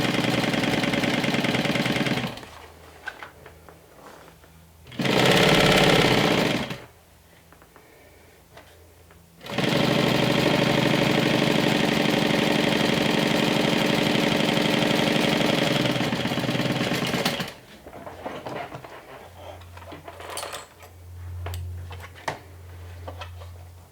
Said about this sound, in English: open it on each side and top stitch along